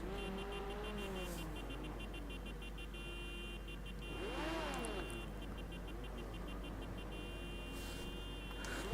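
Race car engines drone steadily through a sim-racing session in rFactor 2, a continuous mid-level hum with a brief swell of a nearby car around the middle and faint tonal beeps overhead.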